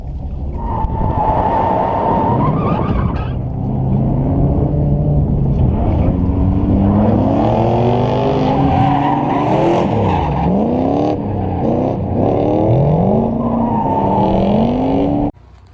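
A Lexus GS430 drift car with a 4.3 liter V8, six-speed manual and welded diff, tires squealing in long rising and falling wails over a loud, continuous engine roar.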